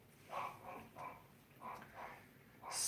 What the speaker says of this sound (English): Sorry, that's my dog, by the way.